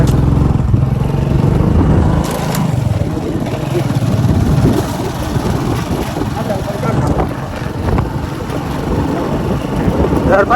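Motorbike being ridden on a hot day, its engine and wind rumbling loudly and continuously while voices talk over it.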